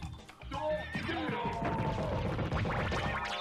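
A half-horse enemy in the video game Castlevania Symphony of the Night neighs loudly in a drawn-out whinny, with crashing game effects and clattering in the background.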